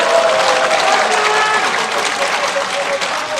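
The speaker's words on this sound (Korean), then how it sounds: "다시 한번 격려의 박수 부탁드리겠습니다" Applause fills a conference hall at a political gathering, steady and loud throughout with a murmur of voices mixed in.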